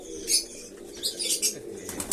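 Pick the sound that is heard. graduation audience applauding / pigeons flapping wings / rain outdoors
pigeons flapping wings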